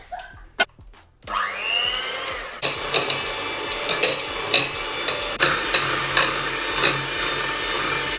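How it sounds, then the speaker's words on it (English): An electric whisk beats eggs and caster sugar in a bowl, sounding as a steady, close motor whir with repeated knocking and scraping against the bowl's sides, following a few sharp clatters at the start. "So I'm gonna use this electric whisk"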